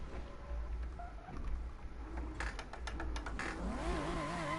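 A supercharged car engine in the racing game Assetto Corsa revs steadily throughout, with a low droning rumble and rising, wavering pitch toward the end, loud and continuous.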